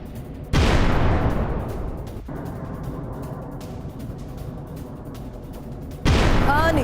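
Rocket fire and interceptions over Haifa: a sudden loud boom at the start, then a long rumbling roar and crackle that slowly fades, with another sharp blast near the end.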